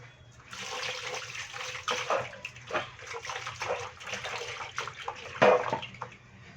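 Running water pours over stingray meat being washed in a kitchen, splashing and sloshing irregularly at moderate loudness with occasional clatters, no voices.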